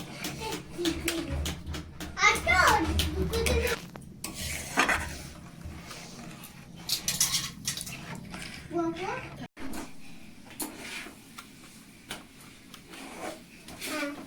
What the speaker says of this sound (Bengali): খুব ভালোভাবে নেড়ে নেব এটা।